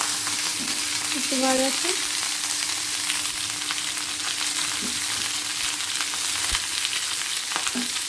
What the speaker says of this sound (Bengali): আর একটু ফুলকপিগুলো ভাজা হয়ে গেলে তুলে নেবো এটা